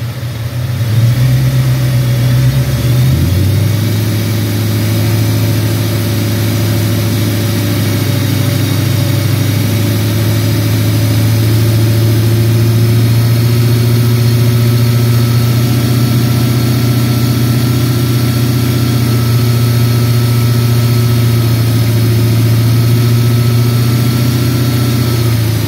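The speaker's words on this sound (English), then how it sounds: "Now mind you, this is idling." A car engine idles steadily at close range, a low constant hum with a slight shift in pitch near the start, then holding even throughout.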